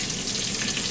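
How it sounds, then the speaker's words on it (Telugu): Dalda vanaspati ghee melting and sizzling in a small pan while butter chicken is being made, a steady, close frying hiss that runs without a break and with no talk. "ఒక చిన్న దాకా తీసుకుని వాటిలో డాల్డా వేసి"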